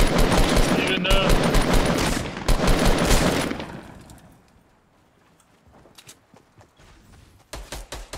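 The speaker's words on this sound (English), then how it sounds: "They just got shot from behind." Rapid bursts of automatic gunfire crackle through a Fortnite Battle Royale match, loud and dense at first, then fading to scattered distant shots before a fresh close volley returns at the end; no speech is heard.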